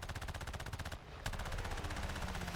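Rapid machine-gun fire from a Nakajima Ki-27 fighter plane in a WWII flight combat video game rattles in a steady stream, breaking off briefly before resuming, with no talk.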